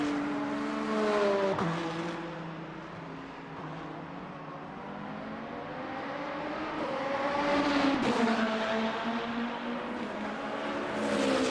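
BMW race cars in the sim racing game Le Mans Ultimate at Imola, engines droning steadily with rising and falling pitch as they accelerate and shift, close and continuous, with no talk.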